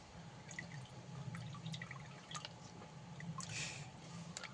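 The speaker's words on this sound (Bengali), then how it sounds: "ভালোভাবে জল ঝরিয়ে নিয়েছি" Water drains from washed chhana (cottage cheese) sitting in a strainer, heard as faint, scattered drips and soft trickling over a low background hum.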